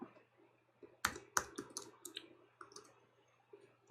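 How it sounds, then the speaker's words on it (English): Typing on a computer keyboard while adding text to a YouTube thumbnail: a quick cluster of sharp key clicks, then scattered lighter taps, close and quiet with no voice. "I'm going to type"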